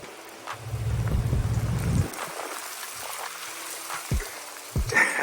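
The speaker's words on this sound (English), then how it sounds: "Now the rain is fully coming down." Heavy rain pours down in a steady wash of broadband hiss, with a few sharper thumps and drips standing out over the continuous downpour.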